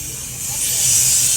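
R404 Freon refrigerant released under pressure while leak-testing an air-conditioner evaporator, a loud continuous hiss that stays steady and swells slightly over the short stretch, with no other sounds over it.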